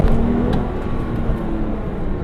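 Manual Porsche 911 climbing a steep San Francisco street under hard acceleration, a loud, steady engine drone and road roar continuing throughout with no one talking.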